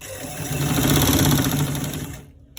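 A domestic sewing machine runs slowly and steadily while stitching stretch fabric for a collar roll, with a continuous close whirring and a fine rapid needle rhythm that slows and stops near the end.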